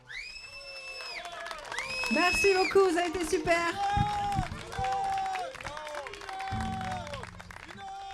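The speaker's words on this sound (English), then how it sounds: "We got to the end of our set and people started cheering for more" Audience at the end of a band's live set cheers, whoops and claps for an encore, a loud sustained roar with whistles rising over a few seconds, while a performer speaks briefly into the mic above it.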